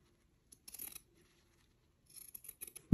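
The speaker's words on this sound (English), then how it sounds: "so I'm just gonna trim it off" Scissors snip excess paper off the edge of a cheap sketchbook being customized with fabric and paper, a few quiet close cuts in two short bursts, ending with a soft thud.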